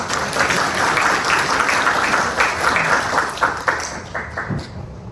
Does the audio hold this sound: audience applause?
yes